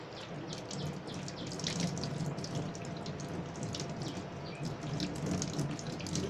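Soap water from an automatic solar-powered DIY sanitiser dispenser runs in a steady, close splashing stream like a tap, with no talking.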